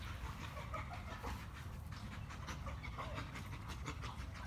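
A dog named Chloe at a kennel pants steadily and quietly up close, a soft rhythmic breathing with faint bird or chicken sounds in the background.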